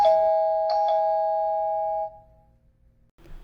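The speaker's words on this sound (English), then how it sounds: "here's what the included chimer sounds like" An indoor chime unit for a Kasa smart doorbell plays a short two-tone ding-dong, ringing clearly and then fading out, followed by a faint rustle.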